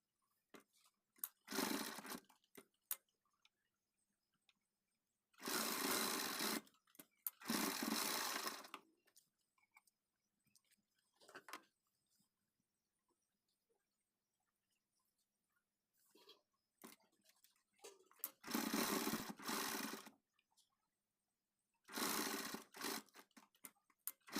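Sewing machine stitching a blouse back neck design, running in several separate bursts of a few seconds each with quiet gaps between them, close and fairly loud.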